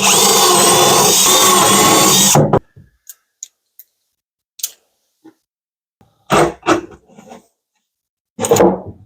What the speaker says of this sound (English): I didn't drill my holes, so I'm gonna do that real quick as well